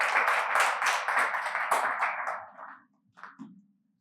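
A small talent-show audience claps briskly for a couple of seconds, the applause tapering off into a few scattered final claps and a brief thump.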